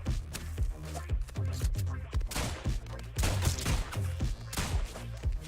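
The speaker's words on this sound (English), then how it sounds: "I'm just walking up and shooting him directly, no funny business." Rapid bursts of gunfire from the video game ENA Dream BBQ crackle continuously, dense overlapping shots with a heavy low thump, mid-level and steady with no pauses across the stretch.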